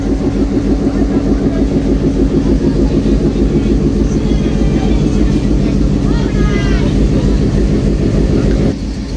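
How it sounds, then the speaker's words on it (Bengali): An express train rolls into a railway station with a loud, continuous rumble and rhythmic clatter of wheels on track, with faint squealing in the middle and the noise cutting off near the end. "ট্রেনটি প্রবেশ করলো 4 নম্বর যাত্রাবিরতি স্টেশন আজিমনগর রেলওয়ে স্টেশনে"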